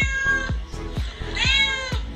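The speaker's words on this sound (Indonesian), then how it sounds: "Meow. Meow." A cat meows several times in a row, each call rising and falling in pitch, close by and fairly loud, with no talk over it.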